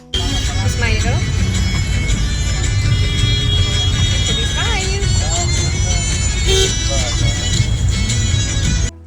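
Busy road traffic near Charminar, a dense, loud rumble of engines with honking horns scattered throughout, heard up close and continuous for several seconds.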